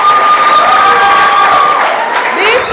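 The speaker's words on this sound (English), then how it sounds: "Can we cheer for them?" A studio audience at a quiz show applauds and cheers loudly, with dense continuous clapping and whoops, while someone talks over it.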